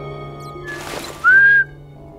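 A person whistles during a Minecraft session, one short sharp high note sounding clearly and loudly after a brief breathy rush of noise, with no speech.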